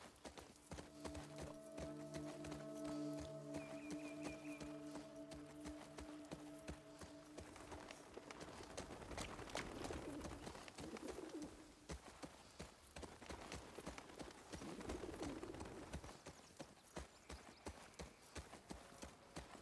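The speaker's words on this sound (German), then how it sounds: "wir reiten wieder im Galopp" A horse gallops in the video game The Last of Us Part II, with rapid, rhythmic hoofbeats running continuously under faint game music and ambient tones, with no talking.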